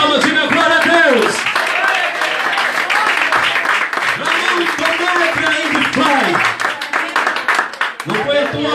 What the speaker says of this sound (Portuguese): Bate palmas, diga glória a Deus.